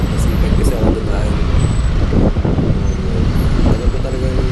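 Loud, close city traffic noise, with a continuous rumble of cars, buses and trucks, faint higher whines and a hiss like an air brake, and a voice murmuring underneath.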